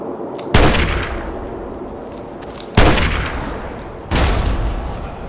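Three loud gunshots from Fallout 3, each a sharp broadband crack with a long decaying tail, spaced unevenly about two seconds apart with no talk between them.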